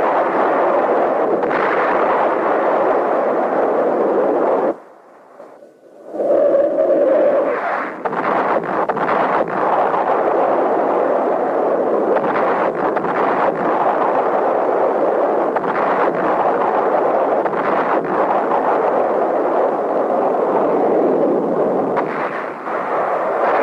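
B-52 bombing run over Khe Sanh in the Vietnam War: a continuous roar of rumbling explosions, loud and dense, broken by one brief lull before the barrage resumes.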